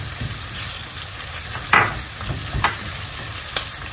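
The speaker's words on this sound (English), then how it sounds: "So these onions are going to cook for just 1 minute." Onions fry in a pot with blended pepper and ginger stirred in, giving a steady close sizzle with occasional scrapes and stirring knocks.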